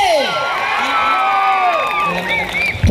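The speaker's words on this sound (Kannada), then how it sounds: "ಬರ್ಲಿ ಜೋರದ ಚಪ್ಪಾಳೆ" A live audience at a stage song performance cheers loudly with whoops and shouted voices, a dense, continuous crowd roar close by, with little distinct clapping.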